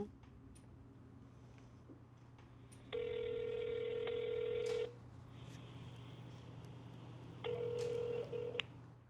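Telephone dialing before a call: two bursts of steady electronic dial tones, one long and one shorter, over a quiet room hum with no talk.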